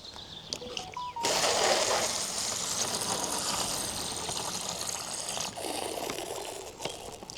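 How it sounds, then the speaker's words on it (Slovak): Water is poured steadily into the pouch of a US military MRE meal, a continuous splashing trickle lasting several seconds, close and fairly loud, with no talk. "nalej si do toho vodu."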